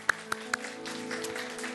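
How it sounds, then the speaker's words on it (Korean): A church congregation at a Wednesday worship service gives a few sharp, separate claps, then a soft, scattered patter of applause fades out at low volume. "우리 하나님께 영광의 박수 올려드리겠습니다"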